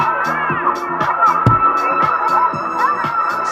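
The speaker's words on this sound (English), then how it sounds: "It's like the crowd is going" Crowd sample layered into a house music beat programmed on an MPC, with a steady four-on-the-floor kick and repeating hats under a continuous cheering, babbling crowd wash at an even, fairly loud level.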